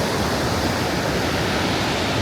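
A large river near Dirang–Tawang in Arunachal Pradesh rushes past in a steady, dense roar of water, constant and unbroken throughout.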